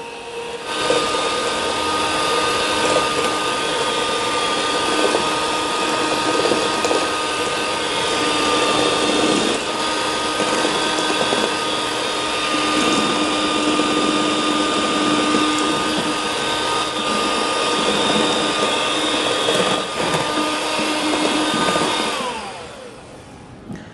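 An electric mixer beats eggs and sugar for a chocolate sponge cake, a loud, steady motor whine running close for about twenty seconds before winding down and stopping.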